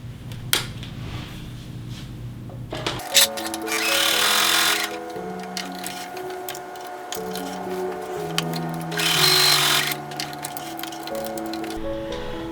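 A sewing machine runs two short stitching bursts along a quarter-inch seam allowance on a sewing pattern piece, with clicks and fabric handling around them and a steady background tone.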